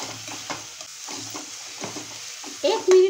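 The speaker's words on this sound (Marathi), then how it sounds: "1 मिनिटभर छान असं आपल्याला परतून घ्यायचं आहे व्यवस्थित." Ginger, garlic, coriander paste and onion sauté in a pan, with a soft steady sizzle, repeated scraping strokes of a spoon stirring, and a louder clatter near the end.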